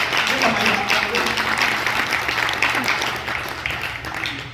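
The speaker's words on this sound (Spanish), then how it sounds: "Una fuerte aplauso al Señor en esta noche." Congregation applauding during an evening church service, a sustained wash of many hands clapping together at steady strength with some voices mixed in.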